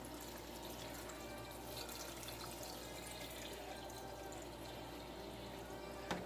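Water poured from a tap into a pot of fruit being prepared for jelly, a steady soft rushing and splashing that runs evenly throughout at low level with no voices.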